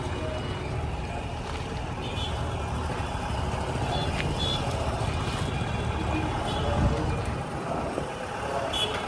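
Busy bus station in Pandharpur with a steady wash of vehicle engines and traffic rumble, occasional higher beeps or horns, and faint voices in the background throughout.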